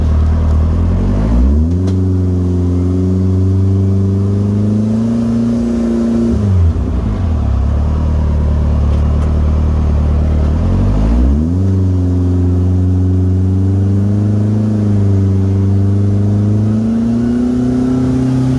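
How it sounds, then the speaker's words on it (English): A turbocharged Troy Lee Pro R UTV with an aftermarket turbo kit and standalone ECU revs loudly and close, its engine pitch climbing, dropping and rising again during a rolling launch, with no talk over it. "Or you can do the rolling launch control button. We'll go show you that."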